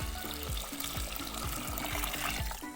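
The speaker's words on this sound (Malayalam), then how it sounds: "വെള്ളം ഒഴിച്ചു കൊടുക്കാം" Water pours steadily into a metal pressure cooker holding wheat, a continuous close splashing rush with light gurgles.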